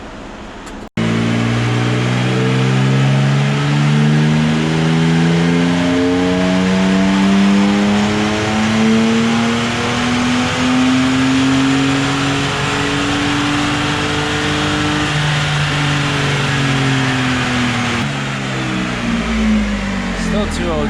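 A 2017 Toyota Tacoma TRD Off-Road engine revs on a dyno, climbing in one long sustained pull with rising pitch, loud and close, after a sharp click at the start.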